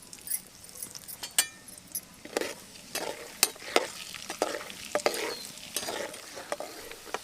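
Peanuts frying in hot oil in a pan, a steady sizzle broken by sharp clinks and stirring scrapes at irregular intervals, close and fairly quiet.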